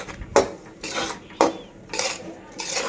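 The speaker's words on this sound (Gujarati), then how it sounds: "હવે એમાં આપણે લોટ નાખી દઈશું અને પછી લોટને આપણે એકદમ શેકાવા દેવાનો છે" Flour stirs and roasts in hot ghee in a home kitchen pan while a spoon scrapes and clinks against the metal in a few sharp knocks between softer stirring.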